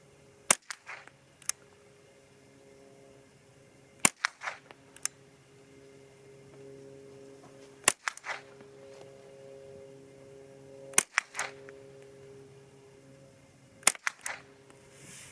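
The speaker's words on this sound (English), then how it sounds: "let's go ahead and shoot at the target on the right now, 5 shots." Five sharp .22LR rifle shots fired at a target outdoors, spaced several seconds apart, each a loud, crisp crack with a brief echo and faint clatter, separated by quiet background.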